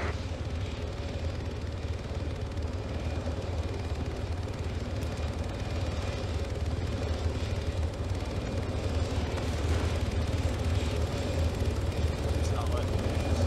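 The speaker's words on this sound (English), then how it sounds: "Get in the chopper." Helicopter rotor and engine drone in a video game, a steady low throbbing roar running continuously at close range and fairly loud throughout, with talk over it.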